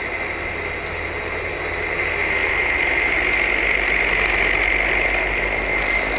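Motorcycle engine in a video game runs as a steady, continuous drone with a faint rattling edge, growing slightly louder partway through and holding without pauses.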